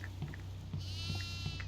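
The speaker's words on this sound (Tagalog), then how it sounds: "Kambing" A goat bleats in the horror video game Devour's farmhouse setting, giving a wavering, drawn-out bleat over a steady low hum and faint background ambience.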